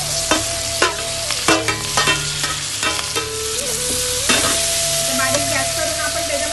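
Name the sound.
mushrooms and vegetables stir-frying in oil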